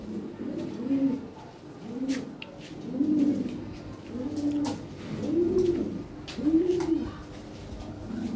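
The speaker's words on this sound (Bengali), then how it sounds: "ভালো এক জোড়া কবুতর," A pair of big European Lahore pigeons cooing at a sale, with soft low rolling coos repeating about once a second, close but fairly quiet, with faint clicks in the background.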